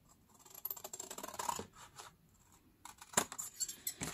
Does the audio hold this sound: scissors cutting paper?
yes